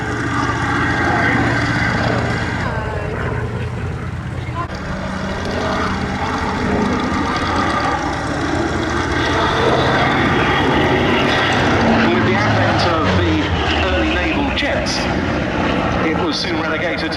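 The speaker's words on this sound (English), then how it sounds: "Also coming into land on the grass, meanwhile, the Corsair" A Corsair propeller aircraft comes in to land on grass at an air display, its steady engine drone holding loud and continuous throughout while a commentator talks over it.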